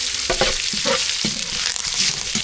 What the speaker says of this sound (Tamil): வெந்தயம் நல்லா வெந்தயம் நல்லா பொரிஞ்சிருச்சு